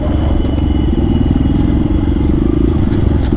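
A motorcycle rumbles steadily at close range on a Sunday ride, with low engine throb and wind buffeting throughout and no pause.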